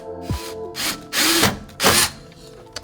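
A power drill bores through desk material in four short bursts, each a whining buzz separated by brief pauses, heard close and fairly loud.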